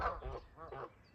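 Two geese honking in loud, harsh bursts beside a moored narrowboat, several overlapping calls close by with brief gaps between them.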